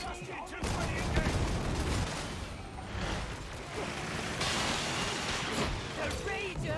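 A grenade detonates in the Warhammer 40,000: Darktide video game amid a dense, continuous roar of combat noise and gunfire, with players talking excitedly over the chaos.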